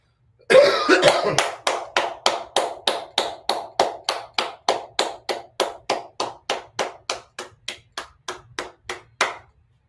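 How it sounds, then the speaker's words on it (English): A single person or small group claps in a steady, evenly spaced rhythm of about thirty sharp claps, close and alone, after a brief denser burst at the start. "Give yourself a round of applause."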